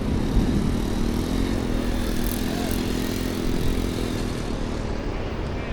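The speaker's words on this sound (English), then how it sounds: "I see a lot of motorcycles on this beach." Steady engine drone of motorbikes riding on a beach at Stone Island, Mazatlán, a continuous hum with a faint higher whine over broad outdoor noise.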